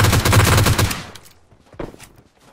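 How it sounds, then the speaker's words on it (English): Loud burst of rapid automatic gunfire in the mobile battle royale game PUBG Mobile, a dense volley lasting about a second, then a few scattered single shots at lower level. "Shots. Enemies ahead! Probably not just one shot."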